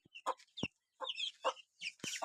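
Chickens, including a brooding hen, cluck in short, close bursts on a farm, several sharp calls in quick succession with brief pauses between them.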